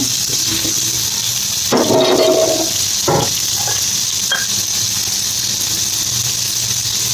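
Onions and tomatoes frying in a pan for dhaba-style paneer masala, a constant loud hissing sizzle with a few brief utensil clatters and no talking.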